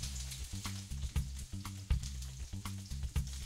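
Peppers frying in a pan, a steady sizzle with repeated clattering strikes as they are stirred, mixed with low rhythmic background tones.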